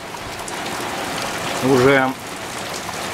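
Heavy rain pours down beside the Dnieper in a steady, dense hiss, with a brief spoken word rising over the downpour midway.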